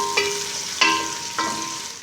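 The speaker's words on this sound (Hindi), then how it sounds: "प्याज को मैंने हल्का सा पका लिया है" Onions soften in a hot pan for an aloo matar gajar mixed-vegetable dish, a steady close sizzle broken by three scraping stirs at even intervals, with no voices.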